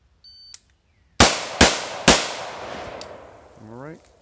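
Three sharp AR15 rifle shots, Bear Creek Armory, fired in quick succession during a shooting drill, loud close cracks with short decaying echoes after a brief beep, followed by a quick rising electronic tone.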